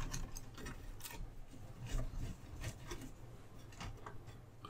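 Small clicking and ratcheting taps while rubber-mounted bolts are undone on a 1938 STC 830 valve radio, a quick irregular series of faint metallic ticks close by, with no talking.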